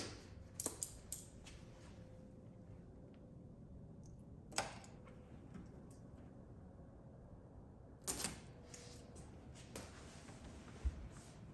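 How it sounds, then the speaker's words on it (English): Scissors make a few sharp, isolated snips while trimming excess tint film on a tail light of a 2021 Jeep Grand Cherokee L. The cuts are close and quiet, separated by long pauses of near silence. "And then we're gonna trim that excess film."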